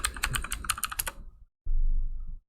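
Quick typing on a computer keyboard, a close, fast run of crisp key clicks for about a second and a half, then a short, firmer burst of keystrokes after a brief silence.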